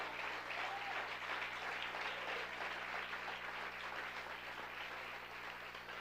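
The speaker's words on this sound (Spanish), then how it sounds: "Si puede aplaudir al Señor, apláudalo" Congregation applauding at a church service, steady sustained clapping filling the whole stretch at moderate volume with no talk over it.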